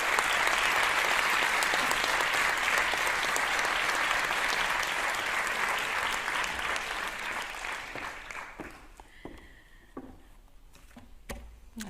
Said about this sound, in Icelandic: gefa henni gott klapp